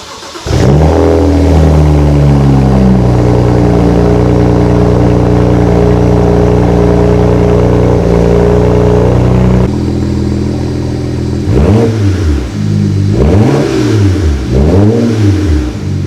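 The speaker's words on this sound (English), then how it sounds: "let's get you a cold start clip" A BMW 335i with an HKS blow-off valve and stage 1 tune starts cold and settles into a loud, steady high idle, then gets several rising and falling revs near the end, close up with no talking.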